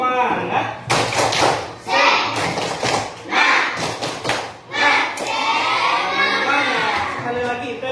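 Children chant and clap together in a rhythmic spirit clap, with loud bursts of claps and thumps alternating with voices in a close, lively room.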